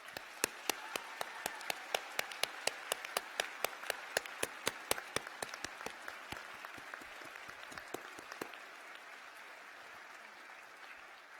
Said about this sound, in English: acknowledge everyone around you has supported your journey with a huge round of applause